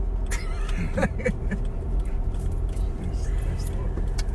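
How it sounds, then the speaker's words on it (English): Interior of a moving car, a steady low road rumble and engine hum running under close, quiet talking. "We're in a moving piece of equipment called a car."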